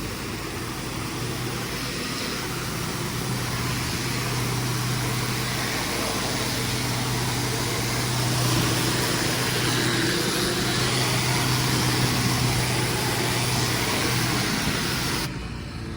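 A pressure washer runs steadily for the whole stretch, a continuous loud motor drone with broadband spray hiss and no breaks, no one talking over it.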